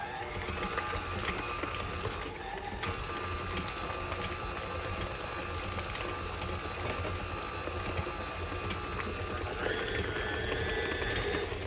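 An electric mixer beats cookie batter with two added eggs for cranberry brown sugar cookies, a continuous close whirring motor hum with a steady rattle that shifts pitch a couple of times.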